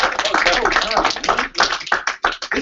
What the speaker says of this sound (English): clap it up for them, man